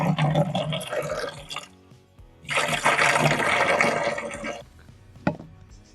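A liter of liquid effective microorganisms is poured into a container for a soil-enriching mix, with two splashing, gurgling pours separated by a short pause, followed by a faint drip and a small knock.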